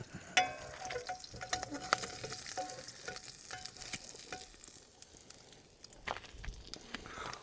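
Sunny-side-up eggs fry in a pan on a Camplux FG01AR portable camp stove, a soft continuous sizzle dotted with small crackles and occasional scraping clicks, close and fairly quiet.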